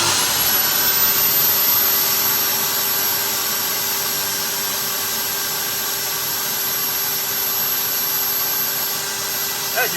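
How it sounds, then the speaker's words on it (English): An electric drill runs on power from a 200 Ah lithium battery, giving a loud steady high whir that holds constant for the full ten seconds, with no talk over it. "Okay, now I'll just try the drill."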